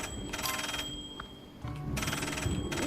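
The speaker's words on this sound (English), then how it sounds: "Oh, the phone is ringing." A telephone rings inside a video game, its electronic trill sounding in two clear bursts separated by a short pause, loud and close, with a faint background hum and no voices.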